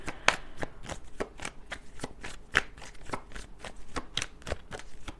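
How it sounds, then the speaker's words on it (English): Cards riffle and snap in a quick series of crisp, close shuffles, about a dozen sharp clicks spread evenly with no talking. "The deck feels a little bit cheeky as I'm shuffling that."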